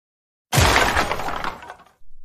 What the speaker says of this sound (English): You knocked down my shopping cart and wrecked it, and now my groceries are everywhere because of you.